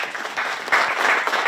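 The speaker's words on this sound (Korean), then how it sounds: "이 또한 박수를 보내주시기 바랍니다" At a formal declaration ceremony in a civic centre, a seated audience gives a burst of grateful applause, a dense, loud wash of clapping hands that swells slightly midway and holds steady.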